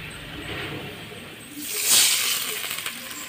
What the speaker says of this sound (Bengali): এখন আমি দিয়ে দিব 1 কাপ পরিমাণ পানি।